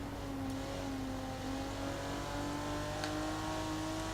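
Mitsubishi car engine in Forza Horizon 4 holding a steady, droning rev with a sustained tonal whine, loud and continuous throughout with no talk.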